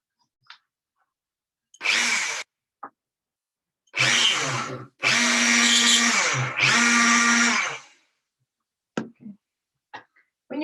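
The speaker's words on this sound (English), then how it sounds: "I'm just going to drill myself a hole super quickly." A Dremel rotary tool drills a hole in a series of close, loud bursts of high-pitched whirring motor whine, the longest lasting several seconds, separated by brief silences and a few small clicks and knocks.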